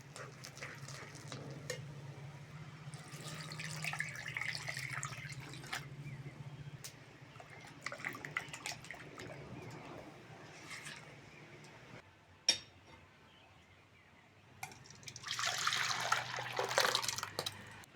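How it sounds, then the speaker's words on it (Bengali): Water is poured into a pot of boiled biulir dal after quiet spoon-stirring and a few faint taps, ending in a brief, soft rushing splash; the whole scene is quiet and close. "এবার জল দিয়ে দেবো"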